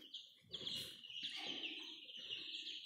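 Rhode Island Red baby chicks peep in faint, high, continuous chirping, with soft low rustling and handling noises underneath.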